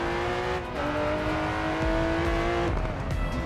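Lamborghini race car engine in the Racing Master game, a steady revving drone that holds pitch then drops as it shifts, continuous and fairly close with no talk over it.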